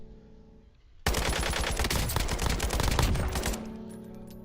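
Rapid automatic gunfire rings out loud and close in a sustained burst of about two and a half seconds, a string of rounds aimed at targets, then it breaks off into quiet room tone.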